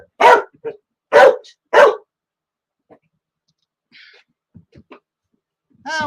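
Dogs bark three times in quick succession, loud and close, followed by quiet gaps with faint whines and snuffles, then another bark at the end.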